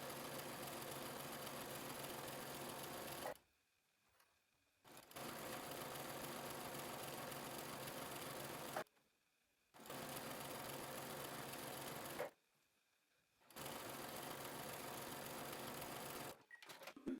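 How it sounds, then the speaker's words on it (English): A sewing machine runs a stretch stitch around a joined skirt and bodice at a 5/8-inch seam allowance, humming loudly in three long, steady runs separated by brief pauses. "I'm going to use a stretch stitch, and I am going to stitch all the way around this skirt and top"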